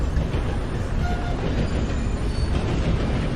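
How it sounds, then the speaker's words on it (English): A long train rolls past close by in Red Dead Redemption 2, a loud continuous rumble and roar of wheels and cars with faint metallic squeal over it. "I think this is the first time I've ever truly been cut off by a train."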